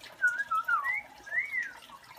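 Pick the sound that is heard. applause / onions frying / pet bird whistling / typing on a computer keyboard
pet bird whistling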